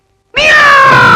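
A black cat's meow used as a horror film sound effect: a single loud, drawn-out, tonal wail that begins abruptly after a brief silence and holds steady to the end, close and isolated.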